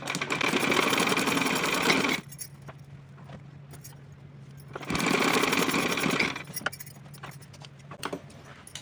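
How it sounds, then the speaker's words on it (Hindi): A sewing machine stitches along the edge of a cotton outfit with elastic, running in two loud, close bursts of about two seconds each, separated by quiet handling of the fabric. "दूसरा साइड का जो इसका किनारी है वहाँ से हम सिलेंगे इसको।"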